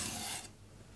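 Steel knife blade rasping across a coarse Suehiro Debado whetstone while evening out the bevel, a close, bright gritty scrape for about half a second that then drops to quiet handling noise.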